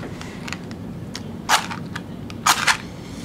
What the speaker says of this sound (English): And then we're going to light a match.